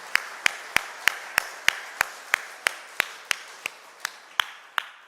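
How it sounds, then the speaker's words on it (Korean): A church congregation at a Sunday morning service claps in steady unison, roughly sixteen crisp, evenly spaced claps at a brisk beat, ringing slightly in the room and easing off a little toward the end. "다시 한번 격려의 박수 주십시오"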